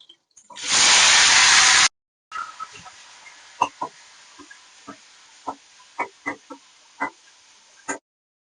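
Salted dried raw mango pieces dropped into hot oil in a pan: a loud, close burst of hissing for about a second, then a brief pause and scattered sharp pops and crackles over a quiet sizzle.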